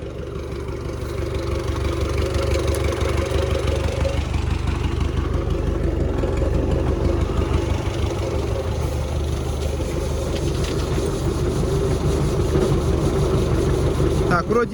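An Arpal MK-120TP machine runs with its engine going, giving a loud, steady drone with a rattling mechanical texture that holds unbroken from start to finish.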